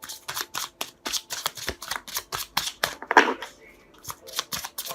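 Tarot cards being shuffled by hand, a fast run of crisp riffling bursts with brief pauses between them, close and fairly loud, with no talking.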